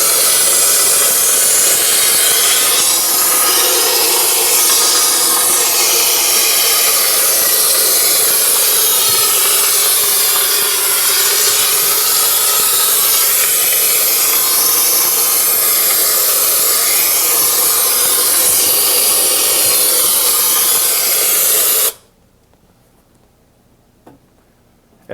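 A Cryonite unit sprays continuously with a loud, steady hiss as it treats insects underneath a surface, then cuts off abruptly near the end, leaving near silence.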